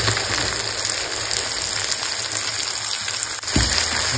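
Onions dropped into a hot pan, frying in oil with a steady, dense crackling sizzle that fills the clip, loud and close, a brief clatter near the end, no talk.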